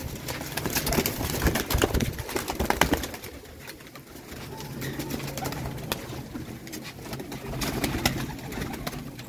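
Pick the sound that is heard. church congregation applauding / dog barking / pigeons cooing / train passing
pigeons cooing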